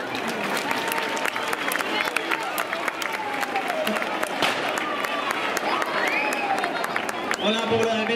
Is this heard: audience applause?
yes